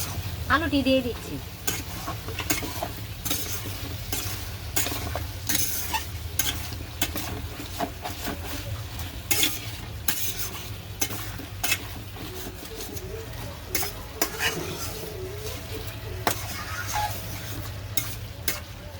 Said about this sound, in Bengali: এখন আমি একটু নাড়াচাড়া করে এখন আমি আলুটি দিয়ে দিচ্ছি।